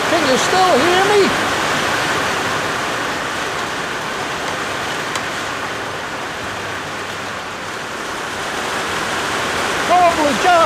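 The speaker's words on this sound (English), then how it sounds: "The rain is belting down." Heavy rain pours down in a loud, steady hiss that holds throughout with no pauses.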